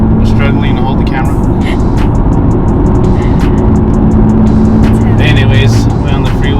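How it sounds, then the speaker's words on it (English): A Nissan GTR cruising on a freeway near Albuquerque, heard from inside the cabin as a loud, steady engine and road roar with constant tyre noise, unbroken throughout. "We in the GTR on the way to the shop right now"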